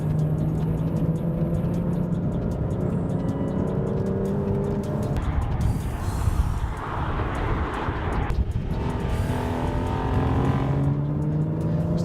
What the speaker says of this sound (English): blip of the throttle, little throttle goose, and you're going